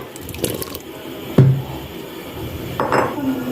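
Kofta stock (yakhni) and potatoes go into a pan of masala for aloo kofta curry, with splashing liquid, a sharp clank of metal on the pot, and a second pour near the end, all close up and without speech.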